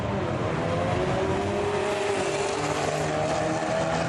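Loud, continuous engine roar from drag racing Mustangs and Camaros at a track, a dense steady drone with no breaks, fairly close.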